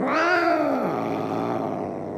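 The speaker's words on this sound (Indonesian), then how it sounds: "Kucing." A cat in a horror video game lets out a single drawn-out meow that rises and then falls over about a second, close and fairly loud, trailing into a fading tail with no talk over it.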